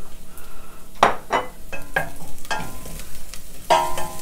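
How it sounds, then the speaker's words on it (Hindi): Spices for chana chaat being roasted and stirred in a pan, with repeated scraping strokes of a spoon against the pan over a steady sizzle, and a few louder clinks of utensil on metal. "मसाले को अच्छी तरह से भुनेंगे।"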